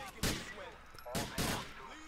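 Gunfire in the video game Grand Theft Auto 4: several sharp, loud shots in bursts, spaced irregularly across the moment, with the player's voice talking between them.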